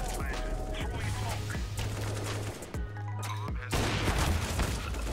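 Gunfire in the video game Counter-Strike, with rapid shots and bursts over steady game ambience, heard close and loud, with a short dip before the firing resumes more intensely.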